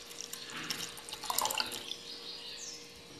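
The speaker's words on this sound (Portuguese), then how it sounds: "Agora eu vou tá adicionando os 250 ml aqui, ó, da água em temperatura ambiente." Room-temperature water poured into a homemade detergent base, a soft trickling splash that swells and then tapers into light drips, fairly close and unaccompanied by speech.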